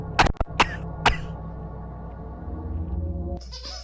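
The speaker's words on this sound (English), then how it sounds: "I'm coughing." A person coughs three times in quick, sharp bursts within the first second, then only a low steady background hum remains.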